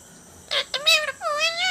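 A cat meows several times in quick succession, close and clear, with short rising and falling cries building to a longer drawn-out meow at the end.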